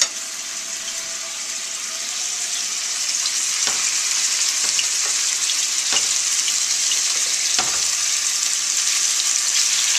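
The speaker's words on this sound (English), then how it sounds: "Here it's sizzling." Steady, loud sizzling and frying of steak in a hot frying pan, with a few sharp pops and spatters breaking through the hiss.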